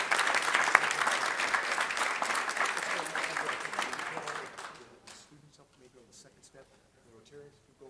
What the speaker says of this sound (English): One more round of applause for our excellent students.